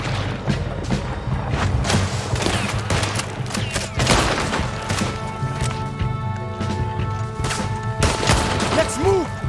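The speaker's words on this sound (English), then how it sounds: "Oh, I'm doing all the shooting, boys." Gunfire in Red Dead Redemption 2 goes on throughout: repeated close shots and booming reports in a steady, uneven barrage that never lets up.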